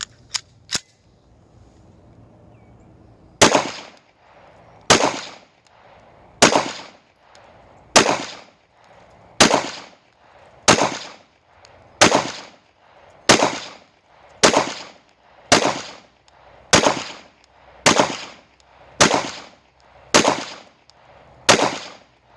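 Pistol shots at an outdoor shooting range, two quick shots then a long series of single sharp cracks fired at a steady pace roughly every second and a half, loud and close with short echoing decays.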